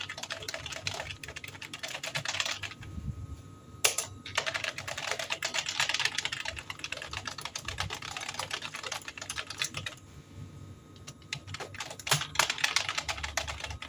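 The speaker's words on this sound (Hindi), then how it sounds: "चलिए हम कुछ टाइप कर लेते हैं।" Someone types steadily on a computer keyboard during a LibreOffice lesson, producing a dense, close run of rapid key clicks with a few short pauses and occasional louder key strikes.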